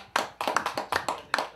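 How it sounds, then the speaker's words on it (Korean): A few people clap to welcome the next singer at a year-end gathering, with sparse, uneven claps in quick bursts, close and fairly loud. "박수로 환영해주시기 바랍니다"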